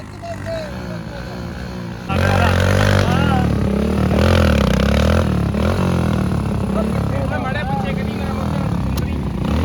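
A motorcycle engine revs loudly and steadily in a motorcycle-versus-tractor tug-of-war contest in Bathinda, Punjab, jumping up in volume after a couple of seconds, with clattering and voices mixed underneath.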